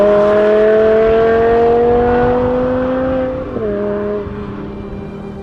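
The V10 engine of a BMW M5 Touring screams loudly and steadily with strong harmonic whine, then the pitch drops sharply as the revs fall and fade slightly.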